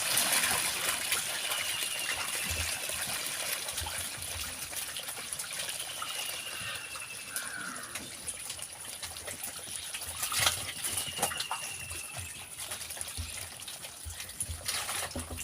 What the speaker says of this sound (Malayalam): ആ വെള്ളമൊക്കെ നമുക്ക് ചെരിച്ച് കളയണം